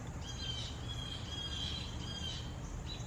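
Birds chirping outdoors on a street, faint high twittering calls repeating over a low background rumble, with no talk.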